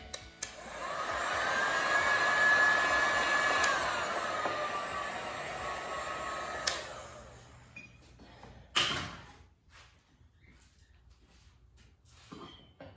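A heat gun blows a steady, loud whooshing stream of air over poured acrylic paint for several seconds, then cuts off, followed by a few clunks and quiet handling sounds.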